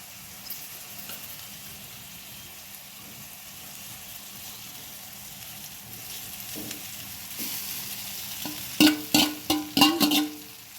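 Cooked rice is tossed and stir-fried with softened vegetables and peas in a sizzling pan, a soft steady fry building to a run of sharp spatula scrapes and clatters near the end.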